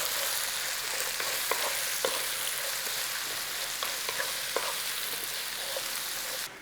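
Onion fries with bacon in a pan, a steady bright sizzle with occasional soft taps and scrapes from stirring, moderately close and without talk.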